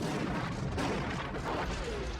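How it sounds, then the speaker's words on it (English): Heavy, sustained roar of a Cobra assault cannon firing, a dense continuous boom filling the whole moment without clear separate shots. "there's the Cobra assault cannon,"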